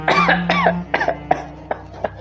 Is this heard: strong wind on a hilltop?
no